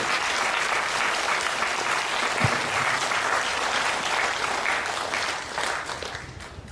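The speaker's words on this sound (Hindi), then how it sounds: "हम तालियां बजाएंगे हाइएस्ट योग के लिए" A large audience at a Rajyoga meditation talk applauds steadily, a dense continuous wash of clapping that holds for several seconds before beginning to taper at the end.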